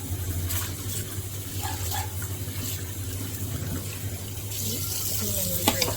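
Fish washed under running tap water makes a continuous splashing gush, with faint clinks from handling and a brief rise in the flow near the end.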